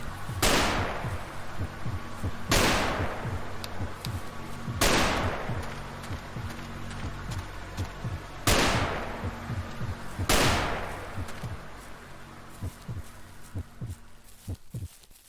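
Gunfire in the Slender's Woods video game: five sharp, loud shots spaced about two seconds apart, each ringing out and echoing through a quiet forest backdrop.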